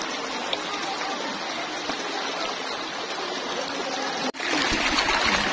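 Steady rushing of a flowing stream in Nagcarlan, Laguna, broadband and continuous, with a brief dropout near the end before the water noise returns slightly louder.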